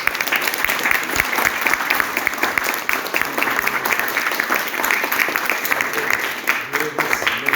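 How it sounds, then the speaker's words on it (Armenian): An audience applauding at a stage event, dense sustained clapping from many hands filling the room at an even, loud level throughout. "բոլորն ծափահարենք մեր"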